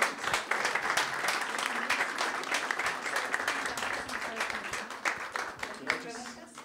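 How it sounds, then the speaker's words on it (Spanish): Warm applause from an audience at a legislative science advisory event, many hands clapping steadily with distinct sharp claps standing out, fairly close and continuous before tapering at the end. "Pido un aplauso muy caluroso."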